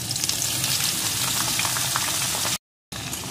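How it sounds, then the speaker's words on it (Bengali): Cut pieces of medium-sized eggplant fry in a pan of oil for a methi saag dish, giving a loud, steady, close sizzle with a brief gap of silence near the end. "এখন বেগুনটাকে একটু ভেজে নেব।"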